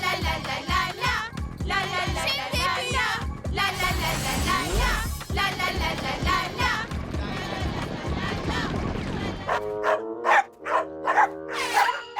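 Cartoon dogs bark in a Polly Pocket animated episode, short yaps scattered through busy background music and character voices, with a cluster of sharper calls near the end.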